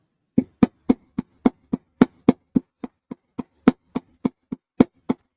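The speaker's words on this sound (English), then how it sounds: "Let me go in and hammer this side too." A metal jewelry ear wire struck with a hammer to work-harden it, about nineteen sharp, close metallic taps in a steady even rhythm with silence between strikes.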